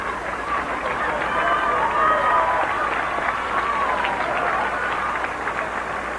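Crowds at Brent Cross in London applaud as Princess Diana's funeral cortege passes on a motorway slip road in 1997, a sustained wash of distant clapping and crowd noise running throughout, with a voice speaking over it.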